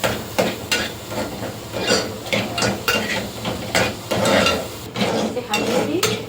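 Onion fries in a pan with a steady sizzle, broken by repeated clinks and scrapes of a utensil stirring against the pan, close and fairly loud throughout.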